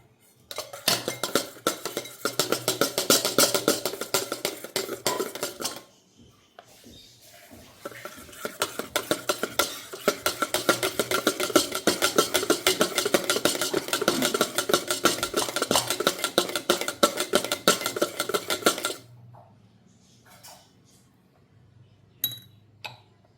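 Eggs for an egg pie are beaten by hand in a bowl, a fast steady clatter of whisk or spoon against the dish. The rhythm runs for several seconds, pauses briefly, resumes at length, then stops, leaving a few faint knocks.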